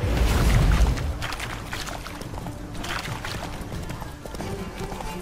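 Horse hooves clip-clop steadily at a gallop in The Witcher 3, a dense, continuous rhythmic patter mixed with game ambience and a heavy rumble at the start, with no talk.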